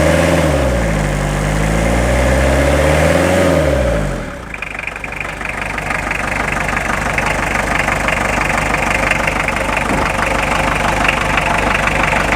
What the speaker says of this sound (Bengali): এক্সিলারেটর চাপ দেন ভাই।